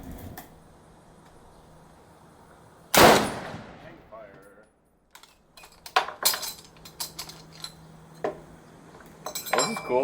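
An M1 Garand rifle fires one loud, close shot with a sharp crack, followed by metallic clinks and clatter of the action and brass, then a scattered burst of handling noises.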